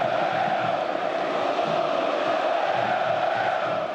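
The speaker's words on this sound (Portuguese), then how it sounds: "a vantagem desse barulho que vem das arquibancadas e incomoda qualquer adversário" Home stadium crowd roaring from the stands during a football match between São Paulo and Cruzeiro, a constant dense, loud roar of many voices with no breaks.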